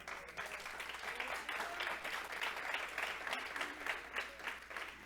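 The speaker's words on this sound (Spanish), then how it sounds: "Dale un aplauso al Señor." Church congregation clapping in praise, a fairly quiet but steady crowd applause with rhythmic surges of many hands over a low constant hum, continuing evenly for several seconds.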